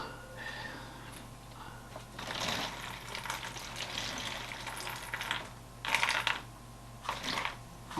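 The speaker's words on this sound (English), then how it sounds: "I'm concentrating on pouring the water" Water poured into a Polish MRE ration bag, a faint trickling and splashing with crinkling plastic, intermittent and close, rising in short bursts toward the end.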